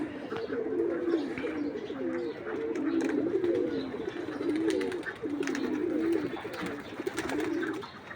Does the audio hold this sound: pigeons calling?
yes